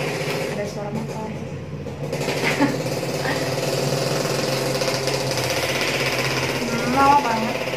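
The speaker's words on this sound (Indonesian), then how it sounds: "Ada suara motor." A motorcycle engine runs nearby in a busy household, a steady mechanical drone with a rattling, hammer-like texture that rises slightly toward the end, under a voice talking throughout.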